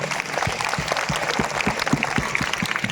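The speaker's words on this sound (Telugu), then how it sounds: "సో లెట్స్ గివ్ ఫాదర్ ఒక క్లాప్స్ కొడదామా" An audience claps for Father Bali at a Christmas celebration at Don Bosco Navajeevan, Hyderabad, with scattered hand claps merging into brisk, fairly close applause throughout.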